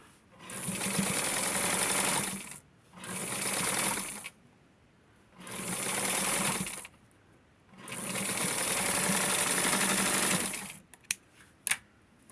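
A sewing machine stitches the inseam of a 4th of July Barbie pant set from Simplicity 6244. It whirs close up in four sustained runs separated by short pauses, followed by a few small clicks at the end.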